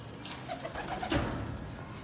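Pigeons in a racing-pigeon loft give soft, low coos, a few short murmuring calls over steady indoor background noise.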